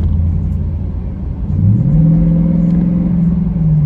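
Car with a Pedal Commander throttle controller accelerating, a loud close engine rumble whose pitch rises steadily as it revs up, with no talk.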